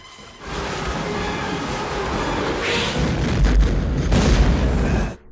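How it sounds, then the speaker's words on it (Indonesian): An explosive thrown onto a chasing sea-monster tentacle detonates in the 1998 creature film Deep Rising aboard a cruise ship, a loud sustained rumbling blast that swells and then cuts off. "Pas kena tepat sasaran tuh ya, meledak."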